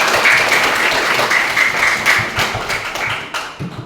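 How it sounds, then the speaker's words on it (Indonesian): Classroom applause for student groups after their answers: a dense wash of clapping from many hands throughout, fairly close and steady, thinning slightly toward the end. "Kita tepuk tangan dulu untuk semua kelompok."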